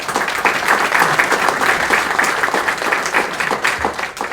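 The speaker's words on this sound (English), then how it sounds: "So give those guys a round of applause." Audience applause at an annual meeting, a sustained burst of many hands clapping together, moderately loud and steady before tapering slightly near the end.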